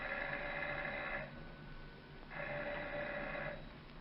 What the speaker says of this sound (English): For several minutes, they stand on the front porch, ringing the doorbell.